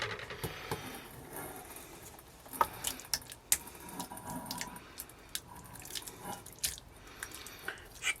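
Water splashes and trickles out of a pot on a Trangia camping stove in uneven bursts, with scattered drips and small metallic clinks, fairly quiet and close.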